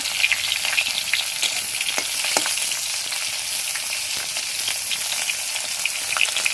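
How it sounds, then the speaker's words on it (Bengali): Pointed gourd and pumpkin pieces frying together in plenty of oil, a steady close sizzle with scattered pops and crackles running throughout, no voices. "দুরকম একসাথে ভাজা দিয়ে দিয়েছি"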